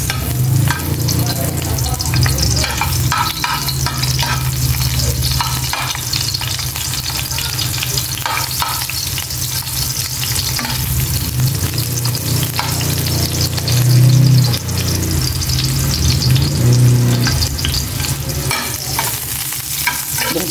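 Onions sizzle in a hot pan while a utensil stirs and scrapes them in repeated strokes, loud and close, with the frying hiss steady throughout and no talk.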